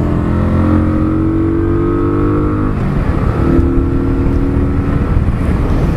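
A Kawasaki Vulcan 900 Classic cruiser motorcycle accelerating toward motorway speed, its engine drone rising steadily in pitch, briefly dropping at a gear change, then climbing again, loud and close under steady wind rush.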